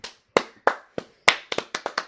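About ten separate hand claps ring out in a quiet room, sharp and close, loosely spaced at first and then quickening into a faster run near the end.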